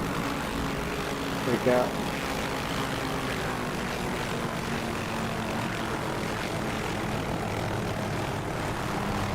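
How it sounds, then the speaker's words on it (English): Aircraft engine in the DCS flight simulator revs up hard while the plane sits landed on a rail, a steady droning hum filling the clip under a brief spoken remark. "the engine RPM's going up like crazy"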